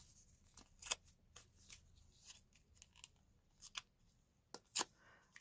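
Scissors snip through small paper shapes for a handmade card, a series of sharp, close, irregular cuts separated by brief pauses with faint rustling of paper in between.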